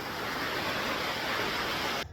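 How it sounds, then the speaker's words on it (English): Rushing waterfall beside East Glacier Trail in Juneau, Alaska, a loud, steady broadband roar with no voices, holding constant before cutting off abruptly at the very end. "If you can hear us, because there's a rushing waterfall."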